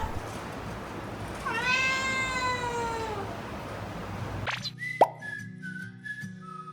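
A cat lets out a long, loud, drawn-out meow near the start, followed by a sharp plop and quieter indoor sounds with faint whistle-like tones afterward.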